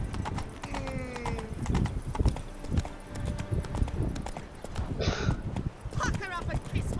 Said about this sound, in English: Vení, caballito.